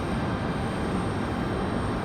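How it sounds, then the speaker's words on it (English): An Air France airliner taxiing slowly out at Raleigh-Durham airport, a steady broad jet-engine rumble and hiss holding at constant level, moderately loud and unbroken, with no voices. "Air France taxiing out slowly."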